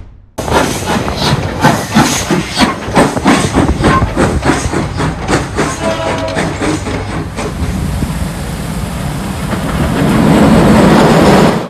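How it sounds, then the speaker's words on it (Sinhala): Coal-fired steam train B2B 213 carrying tourists runs loud and close, with a rapid rhythmic clickety-clack of wheels over rail joints and steam hiss swelling toward the end. "B2B දෙසිය දහතුන ගල්ලඟුරු දුම්රිය සංචාරකයන් 67 දෙනෙකු සමග මේ ගමන් කරන්නේ"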